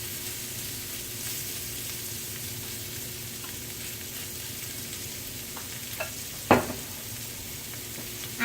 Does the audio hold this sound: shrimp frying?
yes